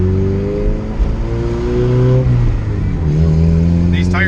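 A turbocharged Honda Civic engine pulls hard under acceleration, a loud, steady, close drone with its pitch climbing through the gears and no pauses.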